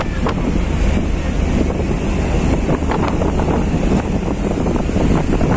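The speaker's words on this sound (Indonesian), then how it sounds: "Angin." Strong wind roars steadily across the microphone aboard an executive ferry boat at sea, with water rushing and waves washing underneath and no voices.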